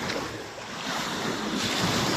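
Strong surf at high tide at Basco port roars steadily, waves crashing continuously with some wind buffeting the microphone.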